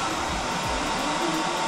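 A hair dryer runs on a ROMOSS X1000 portable power station, a steady, loud broadband whoosh of blowing air with a constant motor hum, unbroken and alone with no talking.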